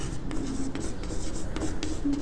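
Marker or chalk scratches steadily across a classroom board during a maths lesson on sets, continuous strokes with brief pauses, fairly close, with faint voice in the background.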